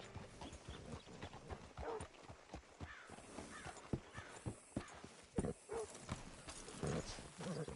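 Horse hooves clip-clop in the video game Red Dead Redemption, a steady walking rhythm of close, distinct hoof strikes on hard ground with a few brief snorts.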